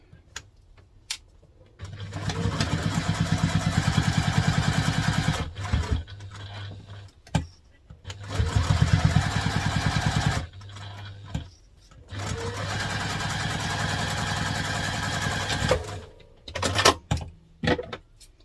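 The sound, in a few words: sewing machine stitching seams of crosspack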